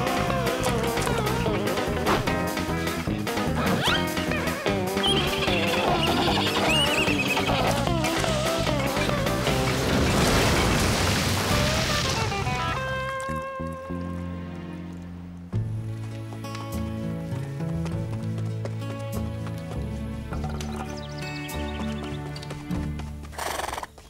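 Cartoon horses in a Wild West setting whinny and neigh loudly over a dense music bed, followed by clip-clopping hooves and a sparser musical passage later on.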